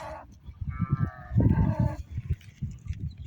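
Sheep bleat in wavering, harmonic calls, several overlapping, against a low background of rustling and movement, at a highland pasture in the evening.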